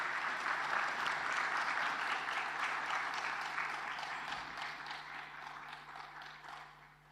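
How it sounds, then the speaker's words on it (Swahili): Sustained applause from a large seated audience greets the President of Tanzania at a public procurement report ceremony, a dense, even clapping that slowly tapers off. "na makofi mengi tafadhali"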